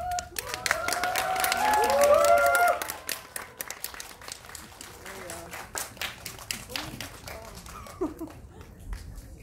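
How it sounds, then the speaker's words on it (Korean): Clapping and cheering from a film screening audience welcoming director Jung Woo-sung and actors Kim Nam-gil, Kim Jun-han and Park Yu-na, loud for about three seconds with a voice on top, then fading to scattered claps under quieter talk. "큰 박수로 맞이하겠습니다."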